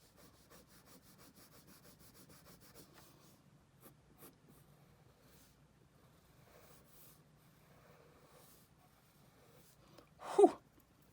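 A pencil scratches and rubs across paper during a manga drawing, faint, close strokes in short bursts, followed near the end by a brief audible exhale.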